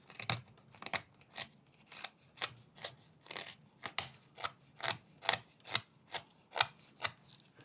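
A knife shaves edges off a small wooden tortoise carving, producing about fifteen crisp, evenly spaced scraping strokes in a steady rhythm, close and clear with no talking.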